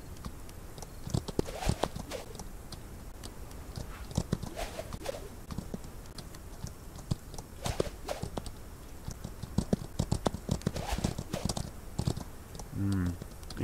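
Horse hooves clip-clop in irregular runs of clicks in a Wild West video game, fairly faint and interspersed with other small game sounds.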